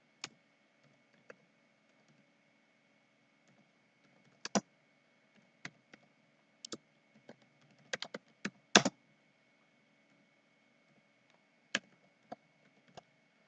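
Scattered keystrokes on a computer keyboard while typing into an Excel spreadsheet, sharp isolated clicks and small quick clusters, close and quiet against a near-silent background.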